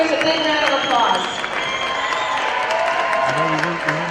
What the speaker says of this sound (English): Let's give the seniors a big round of applause.